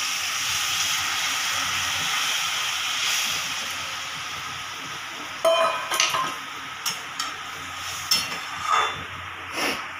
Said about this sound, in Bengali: এবার আমি পুরো গরম জলটাই এর মধ্যে দিয়ে দেবো